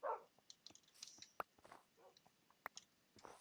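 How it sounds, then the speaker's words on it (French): A dog in the video game Minecraft gives a few faint, short barks and yips, scattered between quiet clicks and small thuds. "Viens là, le chien. Oui! On a un chien."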